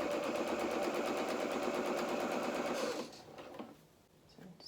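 A domestic sewing machine runs a steady, rapid stitch along a dress seam at a one-centimetre allowance, close and loud for about three seconds before slowing to a stop.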